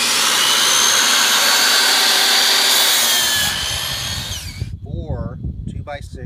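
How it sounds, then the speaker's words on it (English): Miter saw slicing through 2x4 lumber, a loud close whine and cut lasting several seconds, winding down before people talk briefly afterward. "not a table saw, a miter saw"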